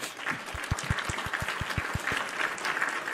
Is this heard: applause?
yes